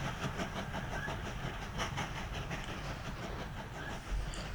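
In the Mashinky game, an iron train runs on rails with a continuous rolling rumble and a regular clickety-clack rhythm, steady and fairly close throughout.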